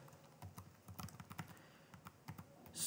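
Code is typed on a computer keyboard in soft, close key clicks arriving in irregular quick bursts with short pauses, quiet and without speech.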